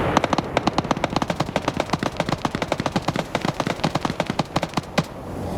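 Sustained ground gunfire in a large Vietnam-era multiplayer battle game, with rapid machine-gun bursts and scattered rifle shots crackling continuously from mid-distance, no talk over it.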